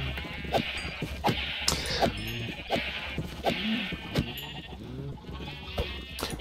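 Repeated sheep bleats from a Minecraft flock, several wavering calls spaced across a few seconds, moderately loud over a steady game background, with no talking.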